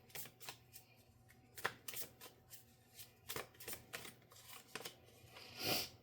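A deck of oracle cards is shuffled by hand in a series of quick, crisp riffles and soft slaps, with irregular bursts and short pauses, up close and with no talk.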